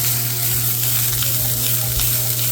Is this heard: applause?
no